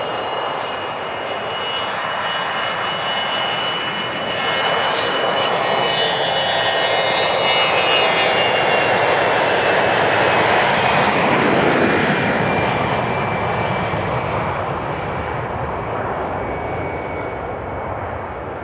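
Private jet landing at Van Nuys Airport, a loud, sustained engine roar with a whining tone that swells toward the middle and then eases, heard alone without talk.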